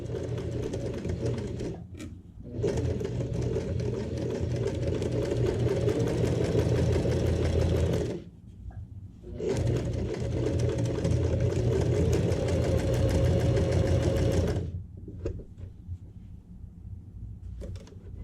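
Sewing machine stitching a quilt block, a steady mechanical whirring hum in long runs that stop briefly and start again, close and fairly loud, with no speech.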